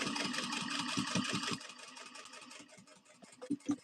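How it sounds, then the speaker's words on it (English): A sewing machine basting fabric layers together at 1/8 inch, its fast rhythmic needle chatter running steadily then slowing and stopping after about a second and a half, followed by a few separate close clunks. "So right now I'm just basting 1/8 of an inch, basting everything together"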